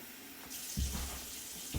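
Water runs from a tap into a baking dish for a citrus pudding cake, a steady close splashing stream with a couple of louder gushes toward the start and end.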